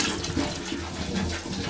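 Scalding hot water is poured and mixed at an off-grid cabin, giving a continuous close splashing, gurgling rush with no talking.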